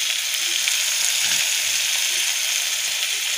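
Ginger and garlic sizzle in hot oil in a pan, a dense steady hiss that stays loud and close throughout, with no voice.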